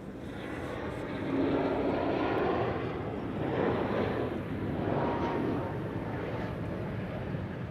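A jet airliner passes overhead near Amsterdam Schiphol Airport, its broad, rumbling roar swelling and easing in slow waves at a moderate distance, with no voices.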